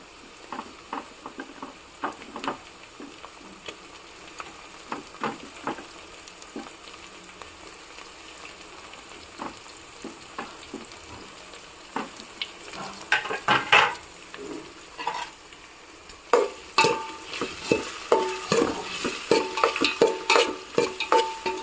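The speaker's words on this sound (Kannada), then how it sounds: "ಸೊ ನಾನು ಇದಕ್ಕೆ ಇವಾಗ ಟೊಮೆಟೊ ಹಣ್ಣನ್ನು ಹಾಕ್ಕೊಳ್ತಾ ಇದ್ದೀನಿ." Onion and tomato fry in oil in a pan for avalakki while a spoon stirs them. The stirring starts as soft, sparse scrapes, then grows into busier, louder scraping and sizzling near the end.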